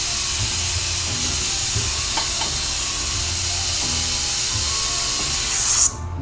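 A steady, even hiss of air from an airbrush with a texture attachment and the pressure turned up, spraying nothing because it has run out of paint, ending in a short burst and a sudden cut.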